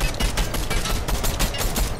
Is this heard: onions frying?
no